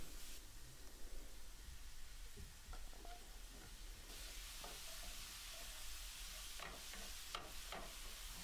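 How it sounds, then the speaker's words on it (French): Chopped onions stirred in oil and spices in a frying pan for an Indian lentil dhal, a steady soft sizzle with occasional scraping stirs and clinks. "on commence à mélanger ces légumes dans les épices et l'huile."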